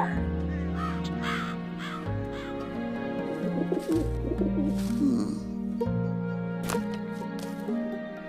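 A crow caws in a harsh, repeated call from a cartoon storybook scene with a witch on a broom, set over a steady musical score with sustained tones throughout.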